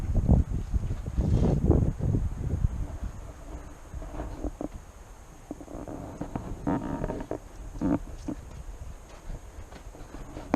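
A 1977 Chevrolet Cheyenne 20 4x4 pickup engine runs after years of sitting, with a faulty accelerator pump and plugs needing replacement. It makes a steady, rough low rumble with uneven surges throughout.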